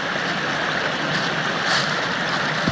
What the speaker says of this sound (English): Always a sound of water nearby.